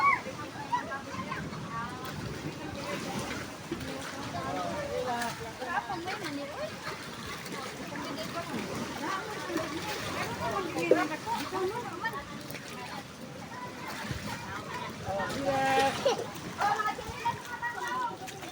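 Seawater floodwater sloshing and splashing between houses during Typhoon Carina's monsoon flooding: a continuous churning wash, fairly close, with voices of people, including children, talking throughout.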